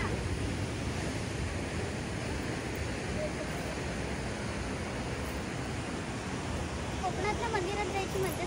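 Sea waves on the Konkan coast near a hillside temple, a steady, loud wash of surf rolling continuously for the whole stretch, with wind-like hiss over it.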